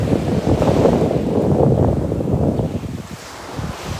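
Wind buffets the microphone on a beach by a large bay at Châteaubriand, with a low roar of ocean surf underneath, loud and continuous before easing slightly toward the end.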